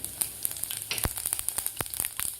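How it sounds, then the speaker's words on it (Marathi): Cumin seeds sizzle in leftover hot oil after bitter gourd is removed, a steady crackling fry with sharp pops and spits scattered through it, close and clear with no talking. "आता राहिलेल्या तेलामध्येच आपल्याला घालायचे आपल्याला अर्धा चमचा जिरे,"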